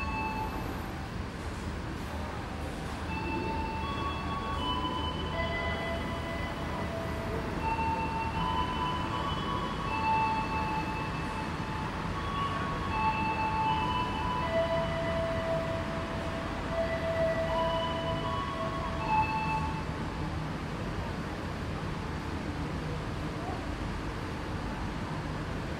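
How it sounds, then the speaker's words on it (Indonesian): The Sancaka passenger train bound for Solo stands at track 3 of a station. A continuous low rumble of engine and rail noise runs throughout, with faint tonal whines and distant station ambience. "Ini adalah kereta api Sancaka yang akan saya naiki menuju ke Solo ya"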